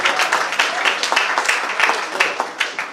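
A small audience at a literary jubilee event claps in a loose, fairly sparse rhythm, individual claps distinct and close, continuing briefly without talk.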